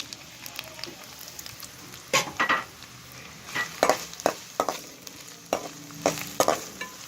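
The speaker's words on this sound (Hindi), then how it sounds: "ऑयल के गर्म होते मैं इसमें प्याज डाल दूँगी" Onions sizzle steadily in hot oil in a wok over a low flame, with a soft continuous fry broken by sharp clinks and scrapes of stirring, fairly quiet and close with no talking.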